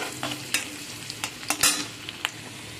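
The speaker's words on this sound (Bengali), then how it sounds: "রসুন আমার ভাজা হয়ে গেছে" Chopped garlic frying in oil in a wok, a close steady sizzle broken by sharp scraping clicks of a spatula stirring at irregular intervals.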